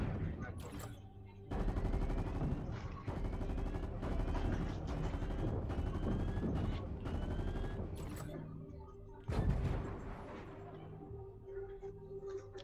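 Automatic gunfire in the battle royale video game Fortnite, Chapter 3 Season 2: dense, loud bursts of rapid shots for several seconds, a brief gap, then a final heavy blast fading into quieter in-game ambience.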